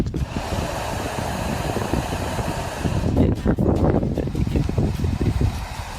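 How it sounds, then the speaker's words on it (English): Wind rushes and roars steadily through a construction tunnel, growing gustier and more buffeting toward the end. "just wind rushing through some kind of construction tunnel for a pipe or something"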